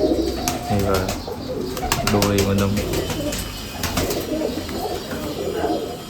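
Small Golden pigeons of the Miya Nazir bloodline coo in deep rolling bursts close by in a breeding setup, while someone talks over them.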